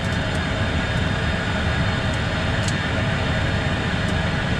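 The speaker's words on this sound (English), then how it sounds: "We got 2 good engines running, 2 generators." Twin jet engines of a Premier 1A business jet running steadily on the ground after start, a constant loud broadband roar with a high whine, alone and unchanging throughout.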